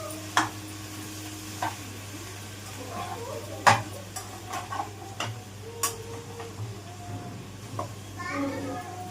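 Fish sambar base frying in a pan with a spoon stirring it, a steady low sizzle under occasional sharp clinks of the utensil against the pan, with faint voices in the background.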